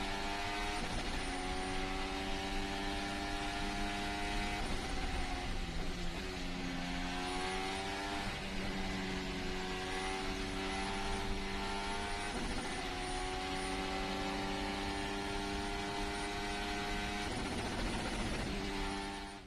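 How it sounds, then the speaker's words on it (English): A McLaren Honda Formula 1 car at the 2017 Chinese Grand Prix screams through repeated upshifts, its high engine note climbing and dropping in stepped sweeps, loud and continuous with a rough, vibrating edge. "there's a issue with the gearboxes that McLaren is using that's causing vibrations on upshifts"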